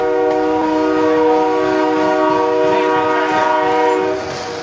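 A passing train sounds a loud, sustained horn close by, a steady harmonic blare lasting several seconds over rolling rail noise before easing slightly at the end.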